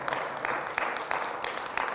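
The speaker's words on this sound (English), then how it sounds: "Will you give God a hand clap?" Church congregation clapping hands together at a sermon, a steady wash of many hands applauding for a couple of seconds, moderately loud and without voices.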